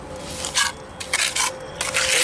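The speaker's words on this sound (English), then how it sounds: "I'm gonna plaster it, see?" Wet plaster is troweled onto a basement wall around a glass block window in short, rasping scrapes that come in uneven bursts close to the microphone. There is no talk.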